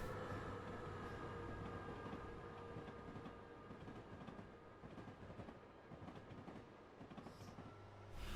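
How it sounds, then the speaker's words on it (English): A train rolls over New York's Hell Gate Bridge, a steady loud rumble of railcars with faint rhythmic wheel clatter and a sustained mechanical drone, close and continuous throughout. "somehow they only just managed to get the train up and over the Hellgate Bridge"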